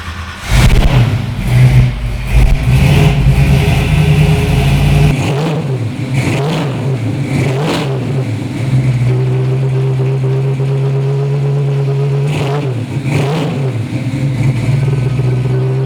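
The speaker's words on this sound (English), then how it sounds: "Fire it up and hear all the rumble." A 1973 Ford Mustang Mach 1 Cobra Jet engine starts with a loud rumble, then revs repeatedly in bursts before settling into a deep, steady idle, close by.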